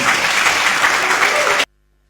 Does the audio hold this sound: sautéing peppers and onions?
no